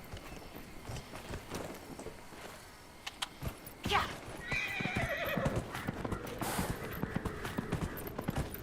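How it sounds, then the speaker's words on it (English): A horse whinnies loudly partway through, amid a quick clatter of galloping hooves and scattered thumps, with a faint game-like ambience underneath. "Let's summon our horse again."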